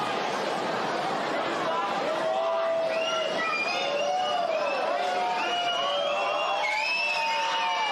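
Stadium crowd at a rugby league grand final reacts to a conversion kick, a steady roar of cheering and chatter held throughout, with whistles and shouts rising over it.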